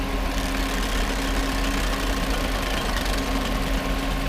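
A 1990s Mercedes-Benz engine idles steadily during a viscous cooling fan clutch test, making an even, close mechanical hum with a low throb and no pauses.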